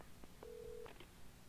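Telephone keypad tones beep faintly during a scene in the video game Alan Wake, a few short tones and a steady held tone in a quiet room, with no talk.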